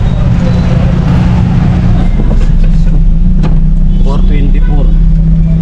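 Road traffic surrounds a rider heading home in the Philippines, a loud, constant engine rumble with passing vehicles and a faint horn, and someone talking over it.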